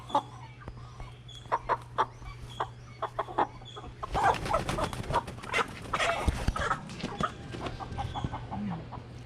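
A Cornish Cross chicken held upside down clucks and squawks in irregular bursts, growing louder and more frantic halfway through, with scuffling and a low steady hum beneath.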